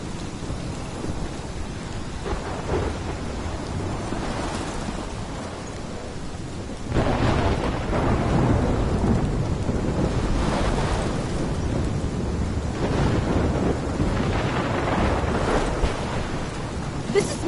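A thunderstorm in the game Life is Strange roars with steady heavy rain and deep rolling thunder, the downpour swelling louder partway through and a faint voice briefly under it.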